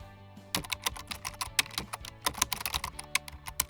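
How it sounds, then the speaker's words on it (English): Rapid computer keyboard typing on a Windows 10/11 PC, a quick run of crisp, close key clicks with a few louder taps, no voices. "I'll type Windows Defender."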